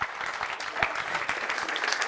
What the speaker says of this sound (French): Je voudrais qu'on applaudisse bien fort, s'il vous plaît.